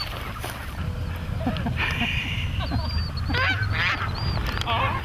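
A herd of geese gives several nasal honks in quick bursts, standing out over a low, steady rumbling background noise outdoors.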